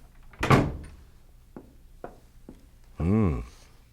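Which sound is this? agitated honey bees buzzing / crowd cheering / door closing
door closing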